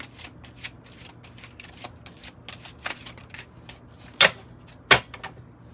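A deck of tarot cards is shuffled by hand, giving a quick run of soft papery riffles and flicks followed by two sharper louder snaps near the end, close and alone without talk.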